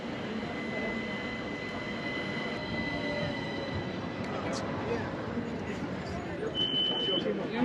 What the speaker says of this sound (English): Here comes our tram on the way home.